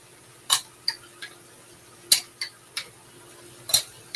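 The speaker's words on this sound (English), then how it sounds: "I'm going to go ahead and add I'm actually using spaghetti sauce. It is the no sugar added." No-sugar tomato basil spaghetti sauce being added from a jar for stuffed red peppers, heard as several sharp metallic clinks and taps of a utensil against a jar and pan, spaced irregularly and close, with no talking.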